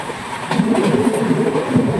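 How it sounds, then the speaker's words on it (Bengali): Tamralipta Express pulling out of Tamluk station on the Howrah–Digha line, a steady rumble of the moving train with wheel and carriage noise that swells slightly after the first half second and holds on, no talk. "ট্রেন তমলুক ছেড়ে দিয়েছে"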